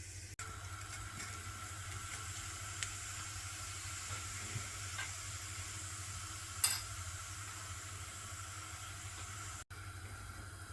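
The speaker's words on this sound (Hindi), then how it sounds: "जैसे ही ऑयल गर्म होगा उसमें 1 टीस्पून जितना ज़ीरा डाल देंगे" Whole cumin seeds sizzle steadily in hot oil for a potato curry, a continuous broadband crackle with a faint low hum beneath and a couple of brief sharper pops, no voices present.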